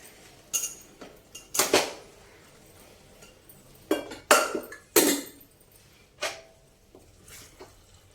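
A spoon scrapes and clinks against a pan as leftover rice is mixed with chana dal and salt for pulihora. Irregular sharp metallic knocks come in bursts with quiet stretches between them.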